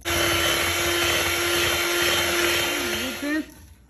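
An electric hand mixer whips cream with monk fruit sweetener for a low-carb peanut butter cream pie, a loud close continuous whine that holds a steady pitch before wavering and cutting off near the end.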